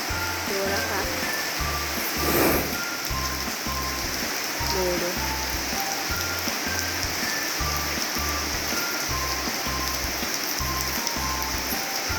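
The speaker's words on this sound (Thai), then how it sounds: "ฝนแรกของจูนนี่ตื่นเต้นมาก เด็กน้อยไม่เคยเห็นฝน ไม่เคยเจอฝนตก" Steady rain falls around a baby elephant, a dense, even patter on surfaces that continues throughout, with faint voices in the background.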